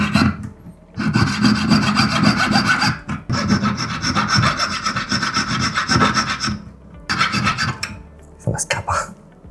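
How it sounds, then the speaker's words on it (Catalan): A jeweller's saw cuts through a metal ring in rapid rasping back-and-forth strokes, loud and close, with a few short pauses between bursts of sawing. "Ara agafarem la serra, que és aquesta, i serrarem aquí, a la mateixa alçada."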